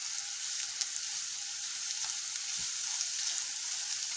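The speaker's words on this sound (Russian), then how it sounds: "Сейчас буду делать гречку, делаю зажарку" Vegetables sizzle steadily as they fry for buckwheat, a soft, even crackle with occasional small pops, heard close and without speech.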